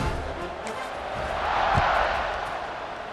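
Stadium crowd in the EA Sports College Football 26 video game, a broad, steady roar that swells briefly in the middle, with faint game sounds mixed in.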